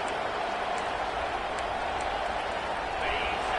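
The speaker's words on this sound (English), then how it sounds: "Listen to this crowd just shaking the girders of this place, trying to help their defense." Loud, steady roar of a stadium crowd at a football game, pushing to help the home defense, a dense wash of cheering that holds constant throughout with no clear breaks.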